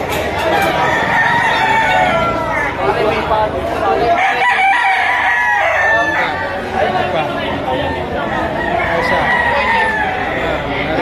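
Many roosters crowing over one another at a Lipa chicken auction market, with stags around ten to eleven months old, loud and nearly continuous, with constant clucking and someone talking throughout.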